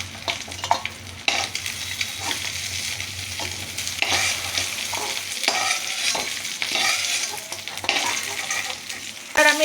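Chopped onion frying in hot oil in a pan, just after dried fish was fried in it, gives a steady dense sizzle with repeated scraping stir strokes, close and fairly loud with no talking.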